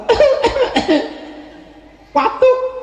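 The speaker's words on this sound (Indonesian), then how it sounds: "Batuk." A single person coughs several times in a quick burst, followed after a short pause by another cough, close and loud, in a spoken religious gathering.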